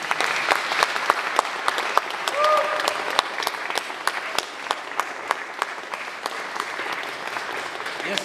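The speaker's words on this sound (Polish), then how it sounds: "Dajcie mu wielkie brawa" Audience applause at a Polish bagpipe festival in Nowy Tomyśl, a steady stretch of sharp individual claps across a crowd, with a voice talking over it briefly.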